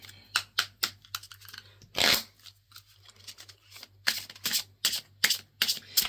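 Oracle cards on angels and archangels being shuffled and drawn by hand, a run of quick papery riffles and slaps with short pauses and one longer shuffle burst, close up and with no talk.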